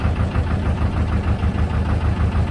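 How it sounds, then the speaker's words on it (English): A narrowboat's engine idles just after being jump started, a close, loud, steady low chugging rumble with no talk over it. "He's going to jump start his engine from mine. That's just worked."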